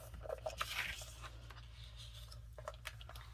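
Scissors snip through a paper picture for a mixed-media journal page: a few soft, close crunching cuts over a quiet low hum, with no talking.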